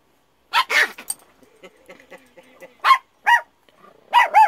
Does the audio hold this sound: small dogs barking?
yes